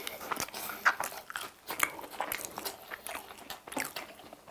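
A crunchy BHC cheese stick being bitten and chewed at close range, with crisp crackling bites followed by repeated crunchy chewing in an irregular rhythm, fairly quiet and without talking.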